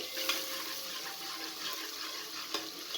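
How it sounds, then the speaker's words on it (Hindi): Onions dropped into hot oil inside a pressure cooker give a steady, close sizzle and crackle with a few brief spitting pops, heard alone. "जैसे ही ऑयल गर्म हो जाए तो आपने इसके अंदर प्याज को डाल देना है"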